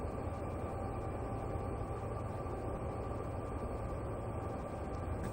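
Steady, continuous rumble of a train slowing down toward 5 miles an hour, with a low droning hum and faint high whine, even in loudness throughout.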